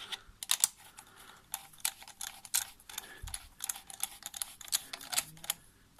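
Rapid, irregular metallic clicks of a tool tightening a bolt on the ignition coil of a Peugeot 206, close up, in short bursts with brief pauses and no talking.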